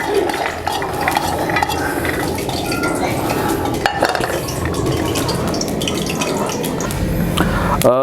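Green peas are stirred around in hot oil in a pan, with scraping and clinking of a utensil against the metal over a soft sizzle and faint background voices.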